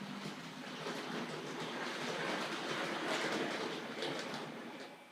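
A Hornby model train rolls around its layout track, giving a continuous rushing, clattering whir that swells slightly as it passes and fades a little at the end, with no talk.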